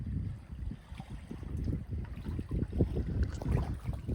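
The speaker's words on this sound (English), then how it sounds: "it's of course windy, as y'all can probably hear." Steady wind blowing over a lake on a blustery day, a constant low rumble buffeting the microphone with gusty swells and no pauses.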